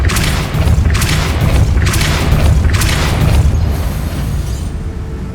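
Repeated Depulso spell casts in the Hogwarts Legacy video game land as loud, heavy booming blasts, about four in a row at a steady pace with a dense rumbling wash between them.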